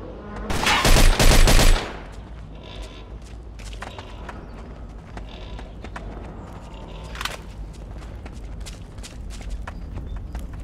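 Gunfire in a shootout in the video game Mafia 2, a loud burst of rapid shots early on, then scattered fainter shots, footsteps and clattering movement with no speech.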